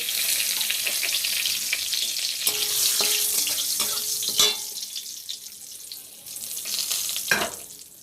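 A bay leaf sizzles and crackles loudly in hot mustard oil close by, with a few metallic clinks from a pan and the sizzle easing off toward the end.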